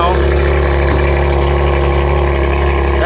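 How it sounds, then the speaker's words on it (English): A BMW M4 CSL engine runs at a car club meet, a loud, steady, deep idle drone held throughout, with a brief blip near the start. "So one of the cars here is an M4 CSL, and you're gonna hear it now."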